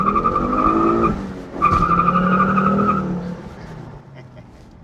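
A 2010 Ford Focus RS accelerating hard, its engine note climbing loud and close through gear changes while the tires squeal, then the sound eases off and fades lower near the end.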